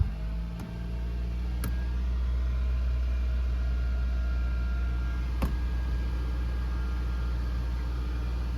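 A Nissan Juke engine is held at roughly 1,500 to 2,000 RPM, producing a steady, close, low droning hum with a few faint clicks and no talking.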